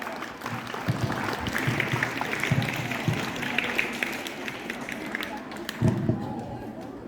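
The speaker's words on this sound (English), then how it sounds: "Give him a big applause." An audience at a Ramzan celebration applauds with scattered, moderately loud clapping that lasts several seconds and carries a low crowd murmur through it.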